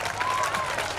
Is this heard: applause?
yes